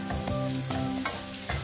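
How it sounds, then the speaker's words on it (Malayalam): Curry leaves frying in hot oil for a prawn pickle give a steady, close sizzle with crackling bursts and occasional stirring, with no talking. "ഇനി ഈ കറിവേപ്പില ഇതിൽ കിടന്നൊന്ന് മൊരിയട്ടെ"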